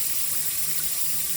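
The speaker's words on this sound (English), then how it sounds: "Now what I'm going to do is add some more hot water." Hot water pours steadily into a Hailang ice machine that is not making ice, a continuous close hissing rush of running water with no talking.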